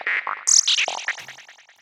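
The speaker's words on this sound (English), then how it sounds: "I have a preset from my Virus Psytrance Preset pack called Sample and Hold Mutate." Access Virus synthesizer psytrance patch, Sample and Hold Mutate: a rapid run of stepped, squelchy FM blips jumping randomly in pitch, decaying into fading echoes over about two seconds.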